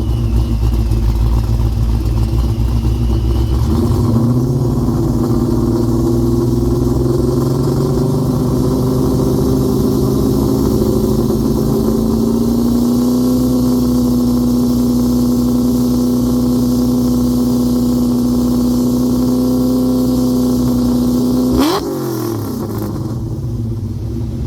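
A supercharged 306 engine in a Fox-body car rises from idle to a held high-rpm drone near 3,750 RPM and sustains it loudly and steadily for many seconds before dropping back, with no talking.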